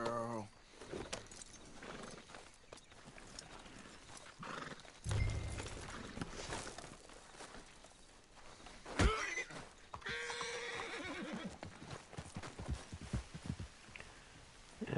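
A horse in Red Dead Redemption 2 gives a loud whinny and snorts amid scattered hoof clops and in-game ambience, with a player's voice talking intermittently over the action.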